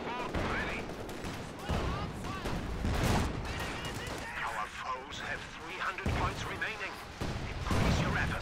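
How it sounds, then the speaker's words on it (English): Stuka rocket fire in a Company of Heroes 2 battle, a dense run of booming shots and impacts layered over constant battlefield noise, fairly loud throughout. "Stuka is firing."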